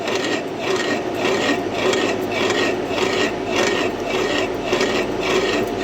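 A machine boring out a bore from 40 to 90 mm in 3 mm passes, giving a continuous, even rasping and scraping cut with a slight rhythmic pulse, steady and close, with no talk.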